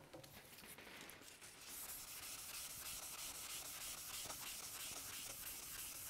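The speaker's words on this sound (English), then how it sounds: "then we'll have a go at buffing some wax on there" Steady, faint rubbing as wax is buffed by hand onto a metal machine bed freshly wiped of WD-40, a continuous soft hiss with no pauses or voices.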